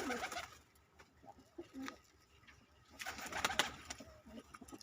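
Breeder pigeons coo softly nearby in low, rolling phrases, with light rustling and a quiet background.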